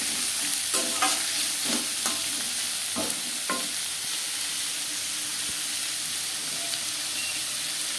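Chopped onion and potatoes fry in hot oil for a mushroom curry, a steady soft sizzle with a few scraping stirs of a spatula near the start, no voices.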